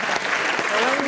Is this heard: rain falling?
no